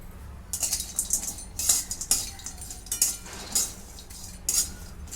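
Dry Bombay duck fish is dry-roasted and stirred in a kadhai on a gas stove, with a run of sharp metallic scrapes and clinks from the utensil about every half second.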